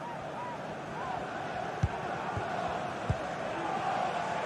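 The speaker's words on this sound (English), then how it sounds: "Well, just listen to this crowd. They want a bit more." Stadium crowd from a Manchester City football match in a video game, a steady broad roar of massed voices with a few low thumps, moderately loud and continuous.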